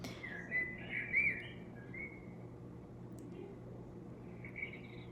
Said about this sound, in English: It's like the sound, beautiful sound of birds in the morning.